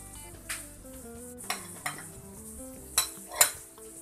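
Ginger frying in a pan while being stirred with a metal utensil, soft sizzle under a few distinct clinks and scrapes of the spoon against the pan, close and quiet.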